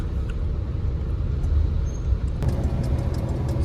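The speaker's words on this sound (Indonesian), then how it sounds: "Bah macet guys." Traffic jam on the Karawang Timur toll road in Indonesia, a steady low rumble of idling cars and trucks heard from inside a vehicle, with a brief faint hiss of an air brake partway through and no talk.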